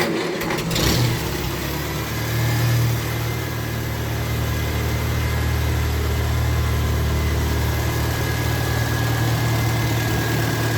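An old tractor with hydraulics, started after its battery was charged instead of by hand crank, idles steadily close by, its low engine drone and vibration unbroken for over ten seconds.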